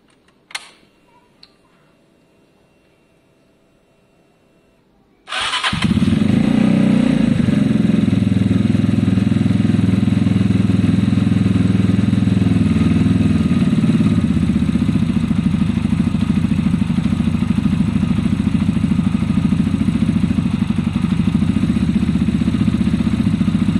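A Zontes motorcycle with fuel-injection cutting-out problems, its spark plug just cleaned, fires up after a few faint clicks and settles into a loud, steady idle close by, running continuously with no talk.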